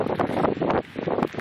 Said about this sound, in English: with a northwest wind of 29 miles an hour, serious gusts